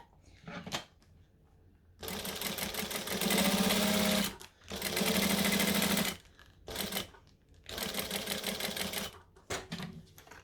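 A sewing machine stitches along the edge of a fabric wallet and back stitches, in several long whirring runs. Short pauses and clicks fall between the bursts, and it is heard up close with no talking.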